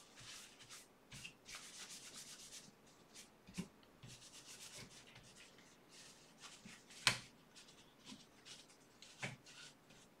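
Cloth or paper rubbing over the metal parts of a Mac Plus floppy drive to wipe away old grease, a steady soft scrubbing with brief sharper scrapes and taps, close and quiet.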